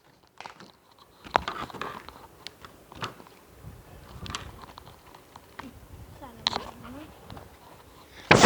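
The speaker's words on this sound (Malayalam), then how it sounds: "അപ്പോൾ നമുക്കൊന്ന് അൺബോക്സ് ചെയ്ത് നോക്കാം." Unboxing a package in a brown shade, with close rustling, crinkling and tearing of packaging in irregular bursts, a few sharper crackles and brief faint voice sounds in between.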